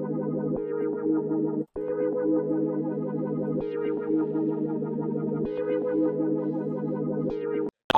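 Dark synth melody preset built in FL Studio, a simple sustained melodic line thick with effects like distortion and chorus, playing steadily and loud with a brief drop out near the end.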